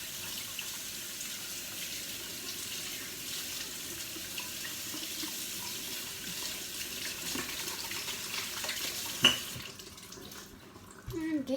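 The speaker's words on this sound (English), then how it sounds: "we're just going to get it all off your hands and wash your hands once again" A kitchen tap runs steadily as hands are rinsed of scone dough, with a continuous close hiss of water, a soft clink near the end and the flow then shutting off.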